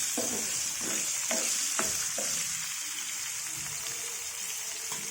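Green chillies dropped into hot oil in a pan with peanuts for chutney, a steady sizzle with several sharp stirring clinks early on, close and even, no speech.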